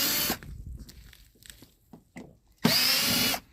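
A power drill drives screws out on the crank of a 2005 Fleetwood Niagara pop-up camper, with two loud, steady whirring bursts at the start and end separated by quiet clicks and handling noise.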